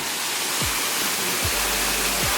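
Waterfall in India, a loud continuous rushing roar of falling water filling the whole clip, with a few brief low thumps, no voices.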